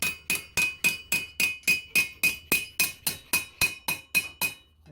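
Steel armour plate edge hammered to roll a D-style hem, a steady run of about fifteen sharp, ringing metallic blows at an even rhythm, close and loud with no talking.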